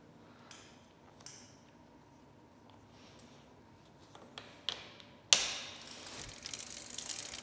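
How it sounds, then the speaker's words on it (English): Bike pedal being turned backwards by hand to tighten its reverse-threaded spindle onto the crank during assembly of a new bicycle: faint, quiet clicking of the freewheel ratchet with a few soft knocks, then a louder scraping burst near the end. "pedaling it backwards, we'll slowly tighten up the pedal."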